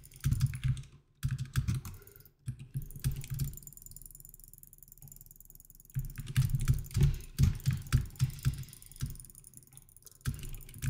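Quick bursts of clicking and tapping on a computer keyboard during a PvP game, close and fairly quiet, in uneven flurries separated by short pauses.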